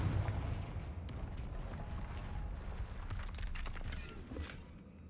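The Confringo explosion spell goes off in the video game Hogwarts Legacy, a rumbling blast with crackling debris that keeps booming and popping through the clip before slowly thinning out, with no talk over it.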